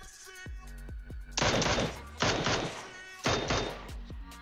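Gunfire in the mobile battle-royale game PUBG Mobile: three dense bursts of rapid automatic shots, each lasting under a second, rising sharply over a quieter background of game tones.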